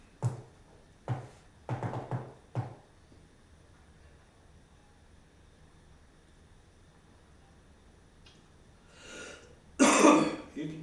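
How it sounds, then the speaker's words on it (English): Several short, harsh coughs in a quick burst, then quiet, then a louder throat-clearing cough close to the microphone. "I've still got a pretty bad cough over it."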